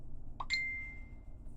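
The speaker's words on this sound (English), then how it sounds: "We receive a notification on our phone, and we have here the message" A short two-note chime from a phone signals an incoming message, followed by a thin ringing tail that fades slowly over a low background hum.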